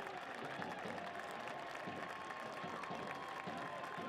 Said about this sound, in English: And the crowd here at the Sportsplex at Matthews very appreciative of the work that George has put in